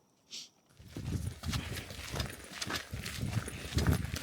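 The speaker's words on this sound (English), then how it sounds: "The pack horse." Pack horse hooves clip-clopping along at a steady walking pace, close and fairly loud, in an outdoor night setting, after a brief faint sound at the start.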